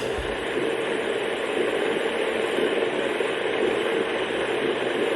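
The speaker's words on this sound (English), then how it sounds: "So this is the 10th sound, the fan." A Ewan the Dream Sheep Deluxe sleep aid plays its fan sound, a steady, even whooshing hiss of broadband noise that holds constant throughout with no voices.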